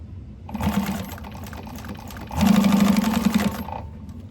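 A sewing machine stitches bag pieces together along the seam allowance in two quick bursts, the second longer and louder, with a steady whirring hum between them.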